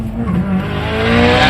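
A Toyota Supra MK4 launches hard, its engine roaring loudly up through the revs as the tires squeal against the pavement, close and intense.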